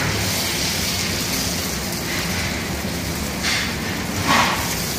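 Kachori frying in a pan of hot oil gives a steady, dense sizzle and crackle that stays even throughout, with no one talking over it.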